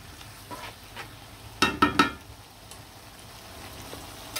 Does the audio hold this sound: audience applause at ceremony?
no